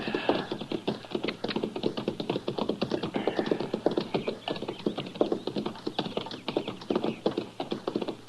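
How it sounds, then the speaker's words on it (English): Steady clip-clop of several horses' hooves trotting at a brisk, even rhythm, moderately close, with no talking over it. "Now, that's horses down there, Chester."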